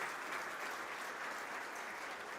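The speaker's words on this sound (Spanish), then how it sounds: "Un poco más fuerte el aplauso" Steady, dense audience applause at a sustainability report presentation, continuous and even throughout with no pauses or voices.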